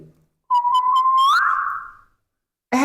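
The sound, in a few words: person whistling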